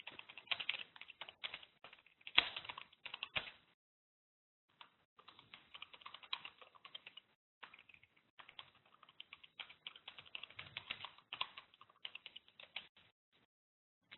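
Quick bursts of typing on a computer keyboard while coding a Hadoop word count program, close and quiet, clattering in uneven runs broken by short pauses, without talking.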